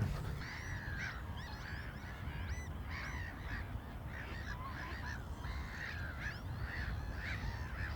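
A flock of wintering migratory geese honks continuously at a distance over coastal polders, many overlapping calls over a low, steady background rumble.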